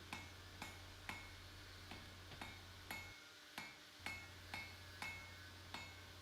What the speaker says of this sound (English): I'm making sure that I'm hitting all over the area to be welded